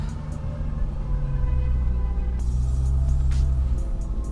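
A Volkswagen Amarok special edition climbing an off-road slope, its engine a steady low rumble that holds loud and constant throughout, with a slight shift in tone partway as it pulls uphill.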